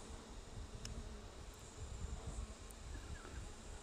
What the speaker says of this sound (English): Just to get these bees away.